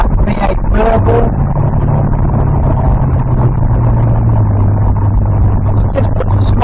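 A classic car's V8 engine runs with a loud, deep, steady rumble and a smooth low drone, while a voice briefly speaks over it at the start.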